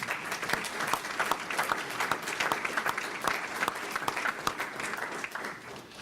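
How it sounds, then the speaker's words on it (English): An audience at a civic ceremony gives a continuous round of applause, many hands clapping in a dense, even patter that holds steady for several seconds before easing slightly. "So I want to offer you a round of applause."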